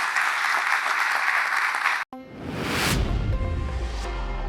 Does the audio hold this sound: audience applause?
yes